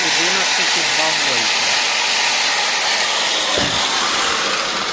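An angle grinder runs from a battery inverter on a 12.8 V LiFePO4 pack, producing a loud, steady broadband roar that stays constant throughout, with a voice briefly speaking at the start.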